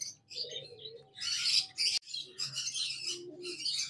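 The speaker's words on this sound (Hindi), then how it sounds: "ये जावा है जावा के पट्टे हैं इसमें ग्रे जावा है सिल्वर जावा है और वाइट जावा है" Grey, silver and white Java sparrows chirp and twitter at a bird market, bright overlapping calls in dense bursts with brief pauses, close and moderately loud over a low background hum.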